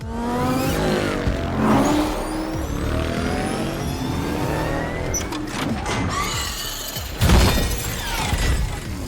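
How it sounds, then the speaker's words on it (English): Race cars and a motorcycle roar off a starting line at full speed, engines revving loudly and continuously with whooshing passes and a sharp crash-like burst near the end, dense cinematic racing mix. "all participating vehicles surged forward at full speed"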